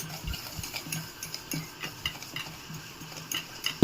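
Rava dosa batter with maida, curd and salt is mixed in a bowl, giving soft, quick clicking and tapping strokes of a spoon at close range, quiet and steady, with no voices.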